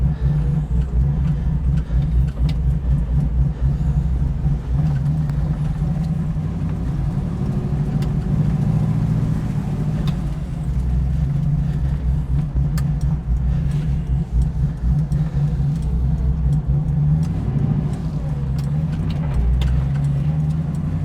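A 1967 Pontiac Firebird out on the road for its first drive, its engine a steady, loud, close rumble from inside the car that holds a low droning note throughout.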